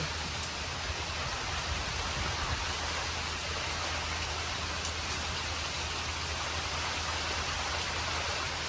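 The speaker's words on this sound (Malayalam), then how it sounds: "മഴ വന്നപ്പോൾ രക്ഷയില്ലാത്ത മഴ" Heavy rain pours steadily throughout, a dense, continuous hiss of drops with no pauses and no voices.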